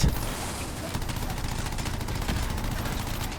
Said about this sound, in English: And I'm getting shot